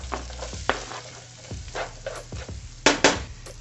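Chopped onions hit a pan of hot bacon fat in a close, crackling sizzle, broken by several sharp knocks and scrapes of a utensil stirring them, with no talk.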